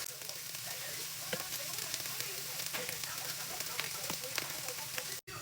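Garlic sizzling in a pan with ground beef, a steady close crackle and hiss with occasional stirring clicks, no voices over it.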